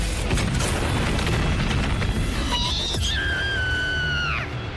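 A heavy anime explosion from the Atomic Split Slash attack, a dense roaring blast with crackling bursts and rising whooshes, then descending tonal sweeps that fade out near the end.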